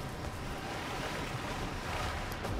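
Water waves in the Fortnite video game make a constant, fairly loud rushing wash with a windy edge, steady throughout with no voices.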